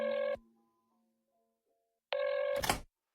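A telephone rings in two electronic bursts, one brief trill, a pause of near silence, then a second ring that ends in a sharp click as the line connects during a call.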